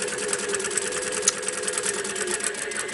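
A sewing machine stitches around the edge of a fabric face mask with a continuous, moderately loud whirring hum and a fast rhythmic mechanical patter throughout.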